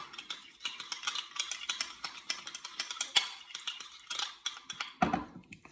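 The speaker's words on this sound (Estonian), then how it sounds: "Selle segan nüüd siin segamini." A spoon stirring a food mixture in a bowl, with quick irregular metallic scrapes and clinks in short bursts, moderately close, ending in a heavier clatter.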